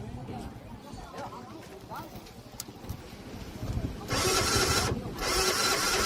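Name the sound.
scooter engine being started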